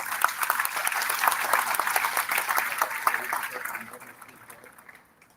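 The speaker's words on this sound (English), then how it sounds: "We please have a huge round of applause for all of those who have come to us through all these difficulties." Conference audience at a Social Business Day opening session gives sustained applause, a thick continuous roar of clapping hands that holds steady and then fades away toward silence.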